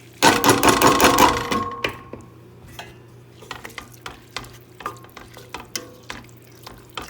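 Rice tipped into a hot pan with carrot and soy sauce sizzles loudly for about two seconds, then settles into a quieter hiss broken by repeated scraping, tapping stirs of a utensil against the pan.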